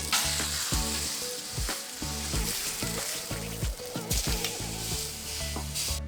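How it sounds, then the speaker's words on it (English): Steak searing on a hot flat top, a loud continuous sizzle and crackle with irregular scraping and stirring knocks throughout, no talking. "Then I can sear it and then I'm ready to eat."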